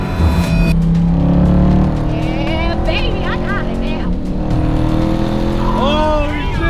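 A burble-tuned Jeep Trackhawk engine revs hard through a downshift, loud and close, its pitch sweeping up and down in several surges before settling into a rumbling drone.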